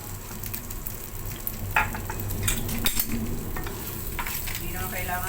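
Garlic and onion sautéing in a little oil for chicken adobo: a steady close sizzle with intermittent scraping and stirring of a utensil against the pan.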